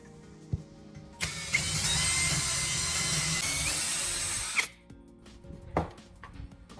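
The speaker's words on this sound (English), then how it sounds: "Take a small wooden block and drill 2 holes just wide enough for the plug's prongs to fit through." A power drill whirs loudly for about three seconds boring a hole in a small wooden block, then stops, with a few knocks and clunks before and after.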